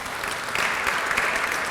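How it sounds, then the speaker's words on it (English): Audience applause at a Somali civic participation forum in the Ohio Statehouse, a steady wash of many hands clapping at moderate distance for nearly two seconds, with no talk over it. "So I think that's something we should applaud to too"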